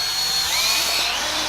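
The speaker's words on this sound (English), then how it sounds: "get the drill bit" Power drill whirs loud and close in a car-modification setting, a continuous high-pitched motor whine held steady and alone through the short burst.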